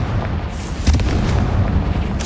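A Confringo blasting curse bursts in Hogwarts Legacy with a rumbling, booming blast, a sharper crack rising near the middle over a constant low roar, loud and close with no speech.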